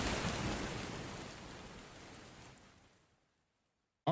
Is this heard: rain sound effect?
yes